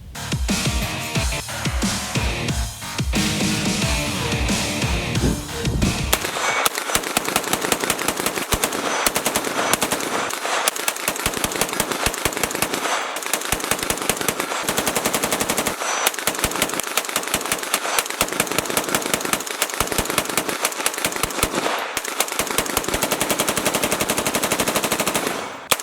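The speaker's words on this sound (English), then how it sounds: "From first to last round of that 500 round burn down, I didn't experience any issues with the Bloodline upper receiver group." Sustained automatic fire from a Rosco Bloodline 10.5-inch upper during a 500-round burn down, loud and continuous rapid bursts with brief gaps, no talk.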